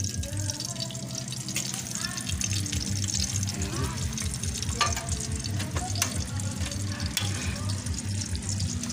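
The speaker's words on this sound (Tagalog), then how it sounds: "Prito po ako ng matambaka." Steady sizzling and crackling of mackerel frying in oil, with occasional clinks and light handling sounds alongside a low hum.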